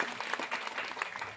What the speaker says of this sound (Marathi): एकदा जोरदार त्यांच्यासाठी टाळ्या होत्या